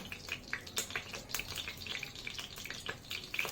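Cinnamon frying in hot oil for a sprouted papad roll gives a soft, steady sizzle with light crackles and faint pops scattered through it. No one speaks.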